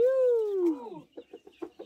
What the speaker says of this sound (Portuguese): Olha lá, a galinha chocou um monte de pintinho aqui na casa de manhã.